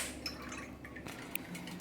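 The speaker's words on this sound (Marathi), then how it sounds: "एक कढई घ्यायची आणि कढईमध्ये तेल टाकून घ्यायचं" A metal kadhai is handled in a home kitchen while oil is poured into it for a Marathi sweet recipe, giving faint clinks and soft liquid sounds against a quiet background.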